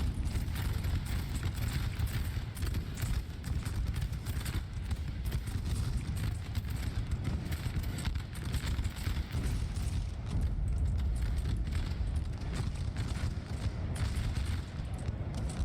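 Dragoon cavalry horses gallop across a Napoleon Total War 3 battle of the War of the Third Coalition, a dense continuous rumble of hoofbeats mixed with distant musketry, loud and sustained throughout.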